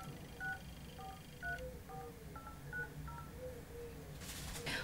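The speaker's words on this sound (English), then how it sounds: "So let's go and phone the company." Series of short paired DTMF tones from a telephone keypad as a phone number is dialed, evenly spaced beeps over a low background hum, with a brief burst of noise at the end and no talking.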